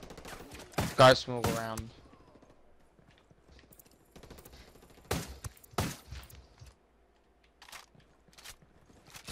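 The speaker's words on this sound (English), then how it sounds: "Who's shooting me?" Gunfire in the video game Ghost Recon Wildlands comes in sharp, loud bursts of several rapid shots, separated by quieter gaps, with brief speech in between.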